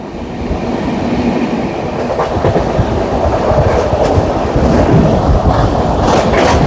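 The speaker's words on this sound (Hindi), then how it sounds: "अब हम लोग तेज रफ्तार के साथ क्रॉस करने वाले हैं, स्किप करने वाले हैं विंध्याचल स्टेशन को" An express train races past Vindhyachal station at full speed, around 130, on the Delhi–Ranchi Jharkhand Sampark Kranti route, a steady loud rumble with rattling wheel clatter that swells slightly toward the end, no voices.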